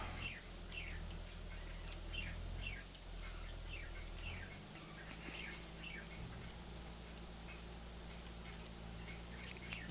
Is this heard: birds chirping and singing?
yes